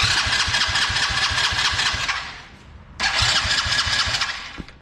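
A small mini quad four-wheeler engine cranks and catches, chugging in a fast steady putter, dies away, then restarts loudly and runs briefly before cutting out, close up.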